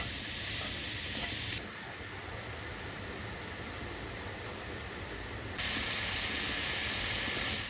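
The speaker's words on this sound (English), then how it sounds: "Add chopped mushrooms to the fried onions and stew them together for about 10-15 minutes over medium heat" Chopped mushrooms stewing with fried onions in a pan over medium heat, giving a steady, even broadband sizzle and hiss that drops slightly for a few seconds before rising again, with no voices.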